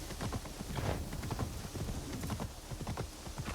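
A horse's hooves clop in a steady, rapid trotting rhythm in the Assassin's Creed Shadows video game, close and fairly loud over a constant dense background of ambient noise, with no talking.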